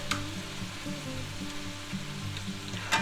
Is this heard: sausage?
yes